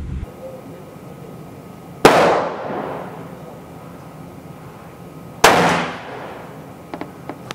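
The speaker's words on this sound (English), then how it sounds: "Let's shoot another five shot group." Two loud rifle shots from a .357 Maximum firing Heavy Lee 200-grain cast round-nose flat-point bullets over H110 powder, spaced a few seconds apart, each a sharp crack with a decaying outdoor tail, plus faint clicks afterward.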